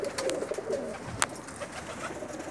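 A pair of pigeons cooing softly and repeatedly at close range, their low murmuring calls set against a steady background hum.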